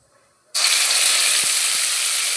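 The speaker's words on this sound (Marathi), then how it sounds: "तेल टाकून तेल तापल्यानंतर त्यामध्ये ते टाकून घेणार। आपण जी कांद्याची पेस्ट केलेली आहे ना ती टाकणार आहोत।" After a brief quiet, onion paste drops into hot oil for a cashew curry and erupts into a loud, sustained, close sizzle that hisses on without letup.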